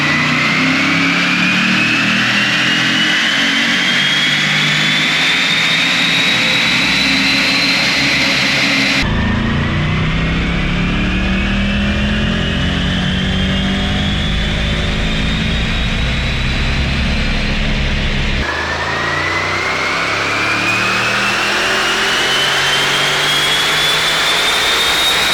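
A Mercedes E63S with a 4-litre twin-turbo V8 on a Eurocharged Houston stage 1 tune screams on a dyno through three long, loud full-throttle pulls, each rising steadily in pitch before cutting off abruptly.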